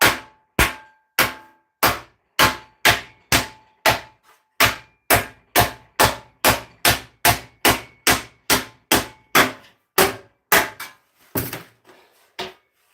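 A hammer beats steel crusader armor into shape in a steady run of about two dozen sharp, ringing metallic blows at an even pace, loud and close, with no one talking.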